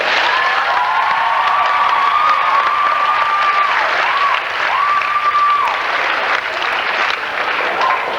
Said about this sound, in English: Sophomore Ian Clancy, Freshman Ann Thompson, let's have one last round of applause for our judges.